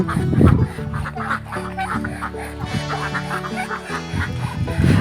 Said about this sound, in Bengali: এখানে বিভিন্ন কালারের হাঁস রয়েছে আর সাথে রয়েছে চিনি হাঁস